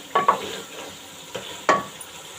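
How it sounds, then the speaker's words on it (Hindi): Beef sizzles as it browns in a pot while a spoon scrapes and stirs, with two sharp stirring clatters early and another near the end. "अभी हम इसको भूनेंगे 2-4 मिनट तक।"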